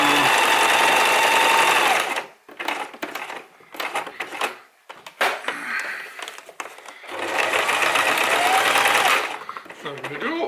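A sewing machine stitches a wool Loden cover for a titanium bottle, whirring loudly in a steady burst, then stopping for handling clatter while someone speaks, then running again.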